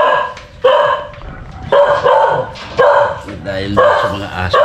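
Multiple dogs barking loudly and close by at a house with a visitor arriving, a steady series of overlapping barks and yelps mixed with people speaking.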